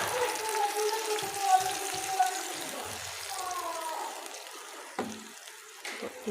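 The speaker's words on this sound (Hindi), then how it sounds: "ये बाउल को हम अच्छे से साफ़ कर लेंगे।" Tap water runs over a bowl being washed in a kitchen while chicken tikka karahi is prepared, a soft hiss under someone talking, then brief clinks and splashes toward the end.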